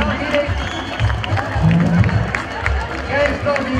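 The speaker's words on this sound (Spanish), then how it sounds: "¡Fuerte el aplauso! ¡Fuerte el aplauso!" Spectators at a Montubio rodeo in Catamayo, Ecuador clap and cheer, a fluctuating crowd din with a voice speaking over it.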